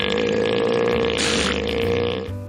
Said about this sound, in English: It's the sound of an elephant seal.